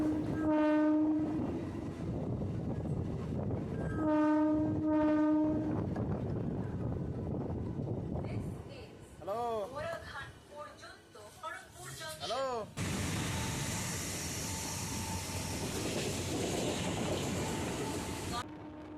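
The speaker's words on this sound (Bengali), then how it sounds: "এখন আমাদের ট্রেন এসে পৌঁছালো দেউলটি স্টেশনে" A local train on the Uluberia–Kharagpur line pulls into a station and sounds two long, loud horn blasts. Voices follow briefly, then a heavy, rushing rumble of the train fills the rest of the clip.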